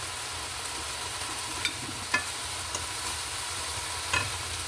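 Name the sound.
turkey and onions simmering in a pan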